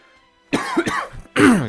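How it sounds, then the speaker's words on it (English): Two rough coughs close to the mic, a quick double hack followed by a single harsher cough after a short pause. "dang this cough"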